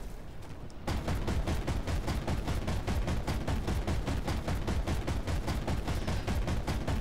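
A tank fires in a video game: a rapid, even burst of heavy shots starts after a brief quiet moment, then keeps hammering loud and steady until the end.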